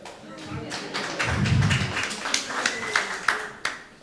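A small audience claps sparsely at a tech tools talk, producing scattered, irregular hand claps that overlap with a man's speech.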